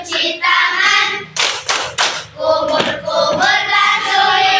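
Rhythmic hand clapping for the tepuk wudu ablution clapping game, several sharp broadband claps in a steady pattern, loud and close, with children's voices chanting along throughout.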